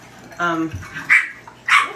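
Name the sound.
small puppies barking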